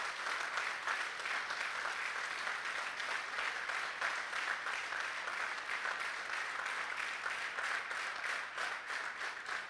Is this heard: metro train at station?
no